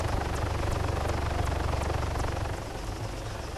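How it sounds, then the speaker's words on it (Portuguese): A helicopter's rotor thumps steadily and loudly throughout, a constant chopping drone with no voices over it, in the video game Arma 3. "Estou a ouvir um helicóptero"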